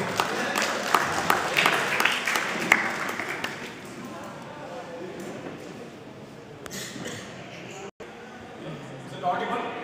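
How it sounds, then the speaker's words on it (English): An audience at the Thimmaiah Institute of Technology claps during a talk. Sharp claps ring out for a few seconds, then fade under a speaker's voice and soft room noise. "a big round of applause to her"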